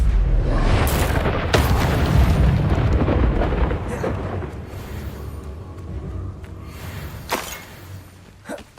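Explosive spell blasts from the Hogwarts Legacy video game: a loud booming burst dominates the opening, followed by rumbling debris and a few sharper cracks as the roar slowly fades.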